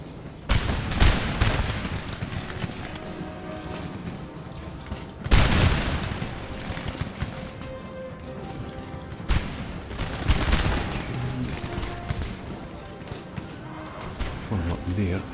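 Musket volleys and artillery booms from Napoleon: Total War battle, loud crashing bursts near 1, 5, 9 and 10 seconds over a continuous din of distant gunfire, with voices talking throughout.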